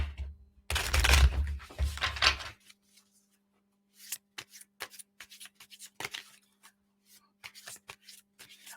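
Tarot cards shuffled by hand, a loud riffling burst at first, then softer scattered slides and taps of cards being handled up close, with no voice.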